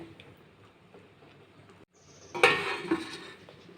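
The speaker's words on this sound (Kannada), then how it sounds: "ಪ್ಲೇಟ್ ಮುಚ್ಚಿದ್ದೀನಿ" A soft background hum, then a metallic clatter as a plate is set over a pan of eggplant curry, followed by a brief ringing clink.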